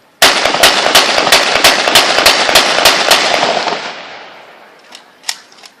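A belt-fed machine gun fires at a reenactment at Freedom Plaza: one loud, rapid burst of about fifteen sharp shots that ends abruptly and fades into echo, followed by a couple of scattered distant pops.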